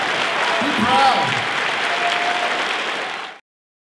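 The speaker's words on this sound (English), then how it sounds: "Let's give ourselves a round of applause." Audience applause at a Video Games Live concert in Vienna, a full room clapping loudly and steadily with a voice briefly heard over it, ending in a sudden cut.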